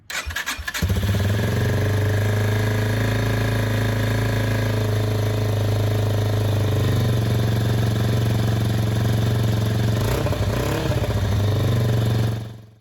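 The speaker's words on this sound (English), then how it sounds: "I'm going to go ahead and choke it. Give it a little bit of throttle." A Yamaha TW200 motorcycle, choked and fed a little throttle after a fuel tank install, starts with a brief crank, then idles loudly and steadily up close with a small rev before shutting off.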